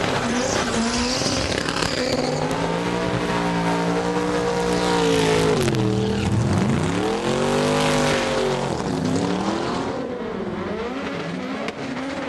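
Front-wheel drive drag racing cars on the quarter-mile strip at Santa Pod, engines revving hard through rising and falling gear changes with tyre squeal, loud and close, continuous for about twelve seconds.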